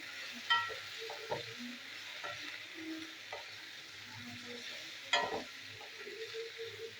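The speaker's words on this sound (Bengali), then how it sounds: "এবার একটু নাড়াচাড়া করবো," Bitter gourd with turmeric powder being stirred and fried in a pan, a faint steady sizzle broken by occasional scrapes and knocks of the spoon, with no talking.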